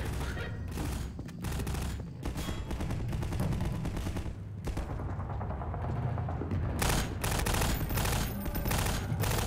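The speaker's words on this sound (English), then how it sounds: "What are you shooting at?" Dense, continuous gunfire and booming blasts in Half-Life 2, heavy overlapping volleys that barely let up across the whole stretch, loud and close.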